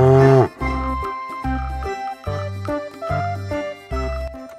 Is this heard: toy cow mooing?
yes